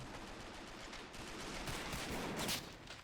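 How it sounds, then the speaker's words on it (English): Bullet whizzing past in Men of War Assault Squad during a WWII Fallschirmjäger assault on Pegasus Bridge; a quick airy swish rises near the end over faint, distant crackling gunfire and rifle shots. "look at that bullet whiz"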